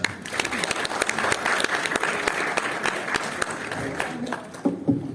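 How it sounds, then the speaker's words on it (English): An audience at a chemical engineering board exam review event applauds warmly, with dense, steady clapping from many hands that tapers near the end as a voice begins. "thank you for the introduction and the warm applause"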